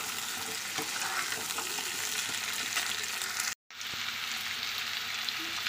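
Small new potatoes with onion sizzle and crackle in a pan as they are stirred, steady close frying noise with a brief dropout midway.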